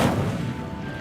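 Incendio fire spell cast in the Hogwarts Legacy video game, a loud booming whoosh right at the start that fades into a rumbling roar, with no talking.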